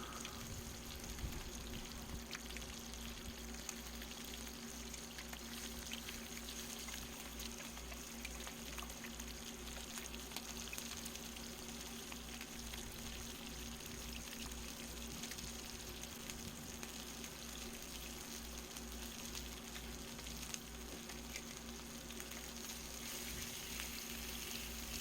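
Jerk chicken frying in a pan, giving a faint, steady sizzle with fine crackling spatter that runs evenly throughout, without talk.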